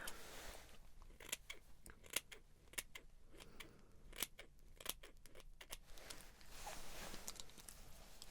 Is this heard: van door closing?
no